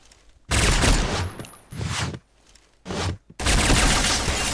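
Bursts of rapid gunfire in the online shooter Point Blank, heavy repeated volleys in three or four close, loud blocks separated by short gaps, with no talk.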